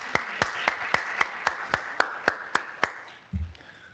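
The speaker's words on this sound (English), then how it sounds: "Can you clap in?" Audience clapping at a plenary conference session: about ten sparse, evenly spaced claps, moderately close, ending with a low thump.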